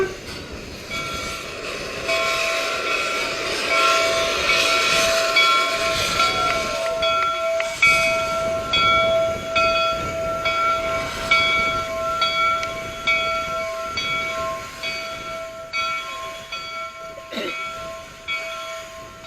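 The Central Pacific Railroad steam locomotive Jupiter sounds a long, steady whistle tone as it rumbles and pulls away, with clanking and hissing in the background.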